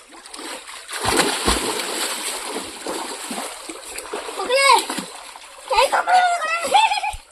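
Water splashes and sloshes from a swimmer working arms and legs in a pool, a steady churning close by, with voices and a child's chatter rising near the end.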